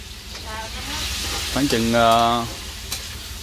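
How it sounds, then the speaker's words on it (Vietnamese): Rat meat is stir-fried with onions in a pan, giving a steady, close sizzle and hiss throughout while someone speaks briefly over the cooking. "Chuột này xào cũng mau ăn lắm."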